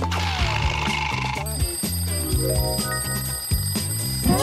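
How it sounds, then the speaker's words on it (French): An alarm rings in a steady electronic tone over bouncy background music, starting partway through and continuing to the end at moderate loudness. "Tu sais ce que signifie cette sonnerie?"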